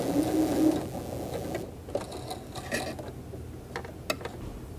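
A sewing machine backstitches a seam with short mechanical whirring bursts and light clicking, fairly quiet and close with no talk.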